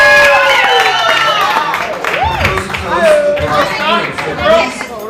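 Warm applause and cheering from wedding guests at a Greek-Hawaiian reception, a steady crowd wash under lively chatter and overlapping voices.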